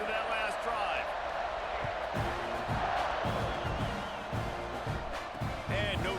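A stadium crowd roars and cheers steadily through a kickoff in EA Sports College Football 26, a loud, continuous wall of noise with thumps and a commentator talking over it.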